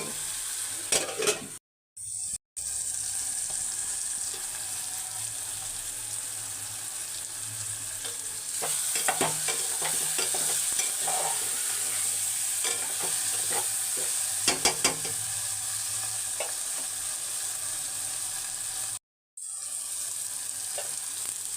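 Egg curry sizzles and fries steadily in a pan while a spoon stirs it, with scraping strokes and bubbling throughout and brief breaks in the sound, no voices.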